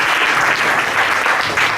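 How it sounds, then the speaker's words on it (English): Loud, dense applause from a church audience at a Sharjah service, many hands clapping together in a continuous, even roar with no talk over it. "Big round of applause."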